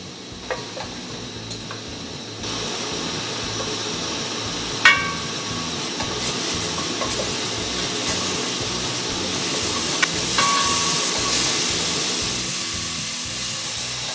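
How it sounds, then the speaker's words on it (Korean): Onions sautéing slowly over low heat in a pan for chicken curry, a soft continuous sizzle with occasional stirring scrapes and light taps, growing slightly brighter toward the end. "양파를 넣으세요 가혹적이면 낮은 온도에서 약간 오래 볶아주세요"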